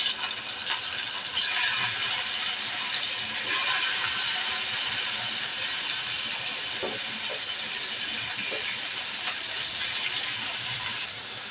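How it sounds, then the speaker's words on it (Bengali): Bright, continuous sizzling of hilsa fish frying in hot mustard oil, loud at first and holding steady, with a few faint clicks. "তেল গরম হয়ে গেছে, দিয়ে দেব মাছ।"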